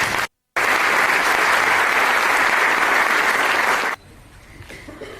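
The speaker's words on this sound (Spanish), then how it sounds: "te damos la muy bienvenida, querido Daniel, con un caluroso y sentido aplauso" Warm, dense applause from an audience welcoming a guest speaker at a political forum in Córdoba, loud and steady after a brief gap, then cutting off abruptly near the end.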